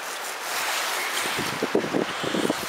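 Wind gusting outdoors on the Fundy Footpath at an overnight campsite, a steady broadband rush buffeting the microphone, growing rougher and more turbulent toward the end, with no one speaking.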